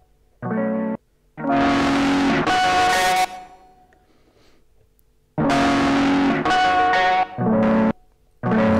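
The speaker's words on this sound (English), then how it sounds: "Now we have distortion." Distortion effect on a Sonicware Liven LoFi-12 lo-fi sampler, playing loud, gritty, harmonically rich synth phrases in several bursts separated by short gaps and a quieter middle stretch.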